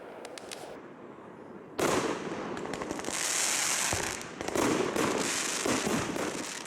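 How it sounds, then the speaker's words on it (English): A Fourth of July fireworks show at Coffman Cove, Alaska: loud, dense crackling bursts and booms roll on continuously after a quieter opening of distant pops. "Each year for the 4th of July, Coffman Cove has a fireworks show."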